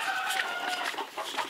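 Several chickens cluck and murmur nearby in a continuous, overlapping chatter of short calls.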